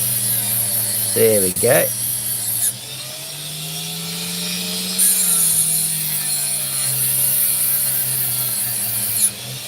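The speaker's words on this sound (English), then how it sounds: "Let's just try and grind this bit away." A rotary grinding tool works steadily on an opal, a continuous close whining drone with a pitch dip as the stone is pressed, accompanied by brief scraping and a few words of speech.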